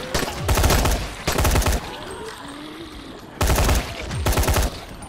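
Automatic gunfire in the zombie video game Dying Light: several loud bursts of rapid shots, each lasting about half a second, separated by short gaps with a lower background rumble.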